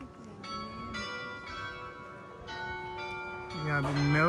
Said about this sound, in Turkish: Çan sesi duyuyoruz.